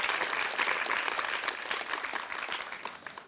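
A studio audience at a TV quiz show claps for a contestant, a thick continuous patter of many hands that holds steady and tapers off in the final second.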